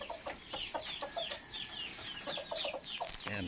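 Chickens, including a hen, cluck repeatedly in short, close bursts at a farm, a steady scatter of clucks and calls with no talking.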